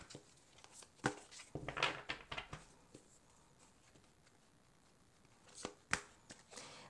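Tarot-style advice cards are shuffled and laid out on a table in a few soft, close bursts of riffling and light taps, separated by quiet pauses, with no speech.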